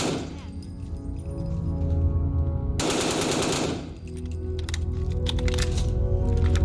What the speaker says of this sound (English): So this gun, if you aren't in the know, is an AN-94